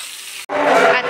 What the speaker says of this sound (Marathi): आता मी वरून भाजी पण टाकत आहे।